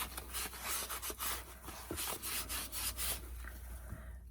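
Wax is rubbed by hand onto a wooden picket fence birdhouse, giving a soft, steady scrubbing and rubbing with short repeated strokes, faint and close with no voices.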